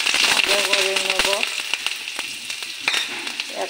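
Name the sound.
green chilies frying in a pan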